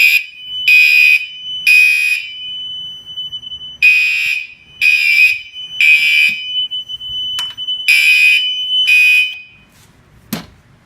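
Gentex Commander 3 fire alarm horns sound in a system test, blaring in loud rhythmic bursts with a steady high tone running beneath, then stopping, followed by a few sharp clicks.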